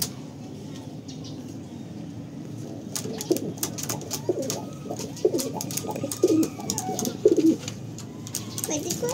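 Pigeons won at auction, among them a hen, coo in low rounded bursts that grow louder toward the end, with faint voices and background noise around them.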